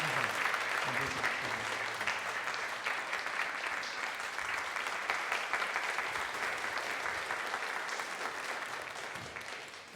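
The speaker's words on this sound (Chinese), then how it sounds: "我们鼓掌来欢迎我们的站立的小组长" A church congregation at a Sunday worship service applauds to welcome small-group leaders, sustained, even clapping from many hands filling the room for about ten seconds.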